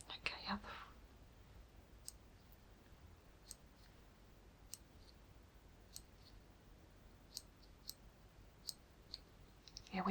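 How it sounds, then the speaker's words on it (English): Small nail clippers snip toenails during a pedicure role play, giving a slow series of sharp, crisp clicks spaced a second or so apart, close and quiet, with soft whispering near the start. "Let's just have these little clippers"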